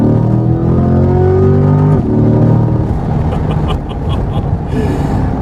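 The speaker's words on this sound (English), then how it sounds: "So we will downshift here on this corner one more time." A Chevrolet C8 Corvette, a 2020 model with 495 horsepower, drones loudly from inside the cabin, then blips through a downshift into a corner, its engine note dropping and resettling into a gritty, uneven growl.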